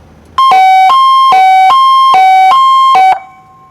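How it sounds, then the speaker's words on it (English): A Federal Signal electronic siren sounds the European high-low signal, a loud two-tone pattern alternating rapidly between a higher and a lower pitch for almost three seconds before stopping. "and the European high-low signal."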